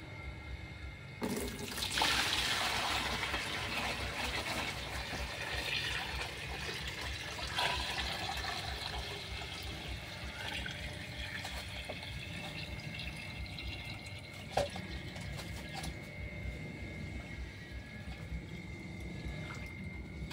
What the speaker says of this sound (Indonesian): saya pindahkan dulu airnya ke ember satu lagi